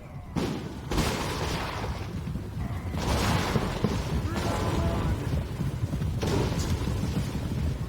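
Deep booms and rumbling blasts roll one after another in a dense, noisy Total War: Warhammer battle, including Iron Drake Troll Hammer torpedoes, loud and continuous with whooshing impacts.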